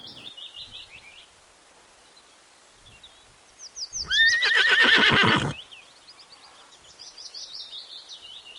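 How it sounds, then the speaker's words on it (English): A horse neighs once, loud and close, in a single long whinny with a wavering tone. Light birdsong runs before and after it. "H. H for horse."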